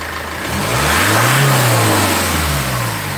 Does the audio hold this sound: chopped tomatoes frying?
no